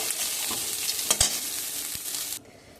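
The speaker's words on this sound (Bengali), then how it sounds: "এবার সবচেয়ে কাঁচা লঙ্কাটা দিয়ে ভাতটা একটুখানি নেড়ে দিয়ে নামিয়ে নেব" Rice with green chilli being stirred in a hot pan, a steady close sizzle with a few soft spoon scrapes, cutting off abruptly near the end.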